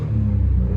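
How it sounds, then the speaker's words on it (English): A three-cylinder 1.0-litre engine in a 2019 Citroen C1 VTi gives a brief, steady raspy rumble, heard close and loud over a fraction of a second. "I will give it a rev so you can hopefully hear the engine"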